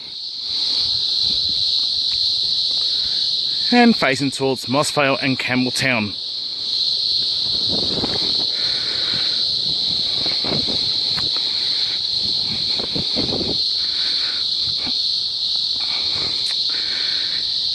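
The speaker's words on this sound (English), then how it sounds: "These cicadas" Cicadas drone in a loud, continuous high-pitched buzz throughout near Penrose railway, with someone speaking briefly over the insect noise.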